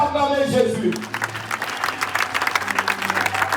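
A church congregation at a Sunday worship service applauds and cheers for Jesus, dense clapping swelling after a brief sung or spoken opening and continuing steadily with a few voices rising through it.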